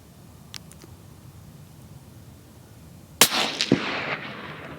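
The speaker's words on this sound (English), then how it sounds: "When you shoot and then you hear the echo ripple through the canyon." A suppressed rifle, fitted with no muzzle brake, fires a single loud shot that cracks sharply, then rolls away as an echo rippling through a canyon. A faint tick comes earlier.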